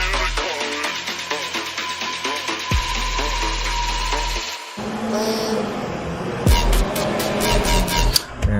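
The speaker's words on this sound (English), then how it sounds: "I have the window open, so there's this freaking garbage truck over here" Garbage truck outside an open window, heard as a loud mechanical whine with rhythmic clanking and a hydraulic hum, shifting to heavier rumbling and sharp clatters near the end.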